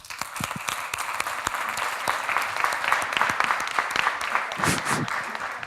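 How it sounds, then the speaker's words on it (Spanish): An audience at a digital advertising regulation conference bursts into steady, dense applause for an introduced speaker, many hands clapping close and evenly for several seconds with no voices over it. "Un aplauso para Moisés"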